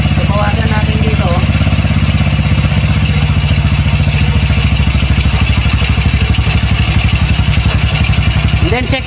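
A motorcycle with an open carburetor idles steadily after tuning, a close, loud, even putter with a fast regular beat throughout.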